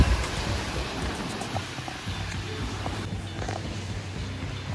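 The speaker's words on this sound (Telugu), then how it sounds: "పెద్ద వర్షం, అబ్బా." Heavy rain pours outdoors as a dense, steady hiss of drops with faint low rumbles, continuous and fairly loud throughout, with no one speaking.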